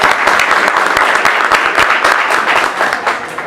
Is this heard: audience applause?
yes